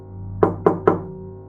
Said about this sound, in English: Before she could dial, the knocking returned.